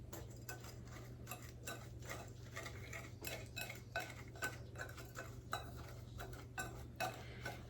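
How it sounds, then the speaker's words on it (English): Brown sugar and flour being whisked in a bowl for a pumpkin pecan pie: faint, quick, rhythmic clicking and scraping of a whisk against the dish, close by and soft throughout. "And I'm just gonna whisk this together."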